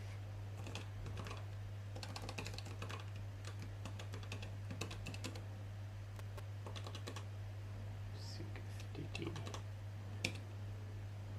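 Someone types on a computer keyboard in bursts of quick, light key clicks with short pauses between, close by over a steady low hum, and nobody speaks.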